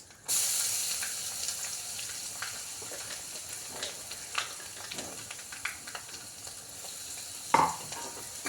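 Crushed pepper, garlic and ginger dropped into a hot pan hiss in a steady sizzle with occasional stirring scrapes and a sharp clink near the end, close and fairly loud with no talking.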